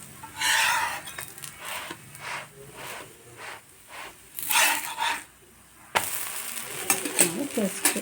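Plain set dosa cooks on a hot pan with a soft, uneven sizzle, broken by scraping and handling noises and a few brief louder bursts near the end.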